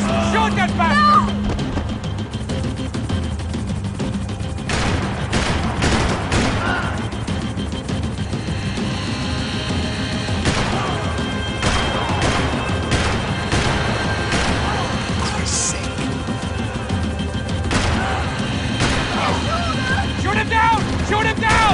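Gunfire crackles through a vehicle chase in Max Payne 3, with loud repeated shots and crashes over a constant engine roar, continuous and busy throughout with characters shouting.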